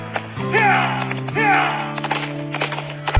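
Horse galloping effect from a western-themed mobile game: rhythmic clip-clop hoofbeats close up, with a couple of swooping tonal sweeps layered over them, short and loud.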